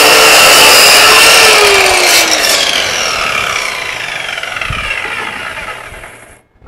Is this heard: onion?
no